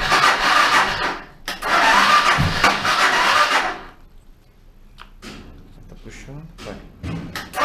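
A Suzuki DR 650 motorcycle with a hard-starting fault is cranked in two loud, rough bursts and does not catch. Quiet follows, with people talking nearby.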